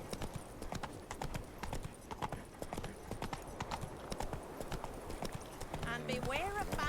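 Hooves clip-clop steadily as the horse Roach gallops in The Witcher 3, a fast, continuous rhythm running throughout under intermittent game voices, with a brief whinny-like tonal call near the end.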